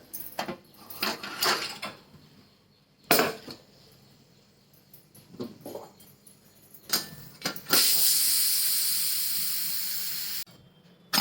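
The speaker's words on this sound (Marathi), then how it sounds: "मी तीन ते चार शिट्ट्या करून घेते झालेत बघा चार शेट्या आता उतरून घेते गॅसवरून कुकर" A pressure cooker on a gas stove, cooking sour dock greens after four whistles. A few knocks and clatters come first, then a loud, sustained steam hiss that slowly fades before stopping abruptly.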